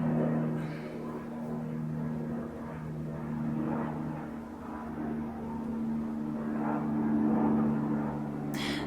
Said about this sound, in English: There's a plane. Can it just go? Or a helicopter, whatever it is.